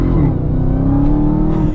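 A 2022 Dodge Challenger SRT Super Stock engine roars loud and close, pulling hard under acceleration with a steady, rising drone and no voices over it.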